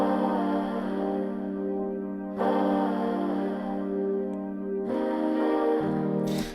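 Sustained Rhodes electric piano chords ring out warm and mellow, changing every couple of seconds over a quiet hip hop drum groove, with no voices.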